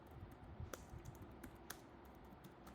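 Quiet, close keystrokes on a computer keyboard as someone types a ChatGPT prompt, an irregular tapping with a few sharper clacks and no voices.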